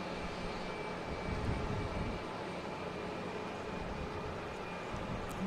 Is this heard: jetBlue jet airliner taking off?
yes